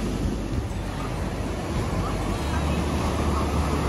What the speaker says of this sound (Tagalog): Sobrang maalon ngayon, grabe.